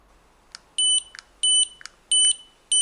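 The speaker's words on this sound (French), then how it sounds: "Après vérification du choix par les 3 bips ou flash" A Beninca ES.MINI gate motor receiver gives three clear electronic beeps, each a short sustained tone in a steady, evenly spaced series, with quieter clicks in between and nothing else around them.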